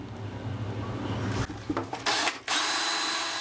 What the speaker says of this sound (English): so we're gonna drill a hole first.